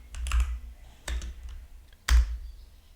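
Keystrokes on a computer keyboard while typing a Neovim help command, three separate clusters of clicky taps with short pauses between them, close and distinct.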